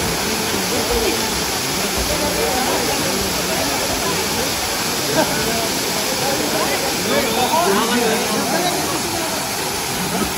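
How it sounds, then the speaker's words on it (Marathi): The Tirali waterfall roars steadily and loudly, a dense unbroken rush of falling water filling the whole stretch, with people talking faintly beneath it. "नुसतं धबधबा बघावं तुम्ही कसला भारी आहे"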